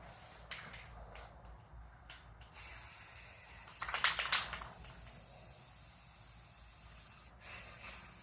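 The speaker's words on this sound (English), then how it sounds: "Let's start spraying." Bursts of aerosol spray paint hiss out onto a skull mount being prepared for hydro dipping, with a sharp rattle at the start and a louder sustained blast in the middle, close by.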